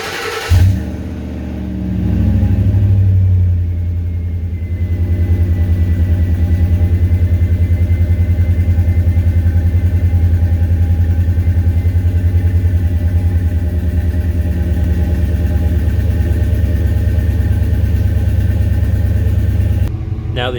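A V8 car engine fitted with a Mac Auto Parts eBay exhaust idles once fully warmed up, giving a loud, close, steady low rumble that carries on for about twenty seconds, with a brief burst near the start.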